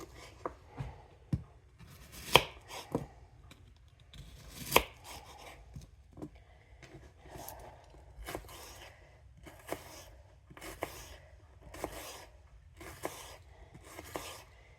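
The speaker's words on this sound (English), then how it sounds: "I'm going to cut these onions up really small" Onions being chopped on a cutting board into small pieces for home-style chili, a steady series of sharp knife knocks with a few louder strikes, close up and with no talking.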